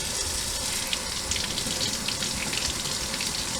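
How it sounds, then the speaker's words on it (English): Tap water runs steadily into a sink for washing a small child's hair on a countertop, a continuous close hiss and splash with no talk over it. "Alright, Izzy, let's wash your hair."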